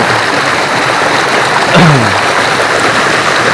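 Oyo River in Gunung Kidul flows as a broad, steady rushing wash of water, loud and continuous, with a brief low whoosh partway through and no talking.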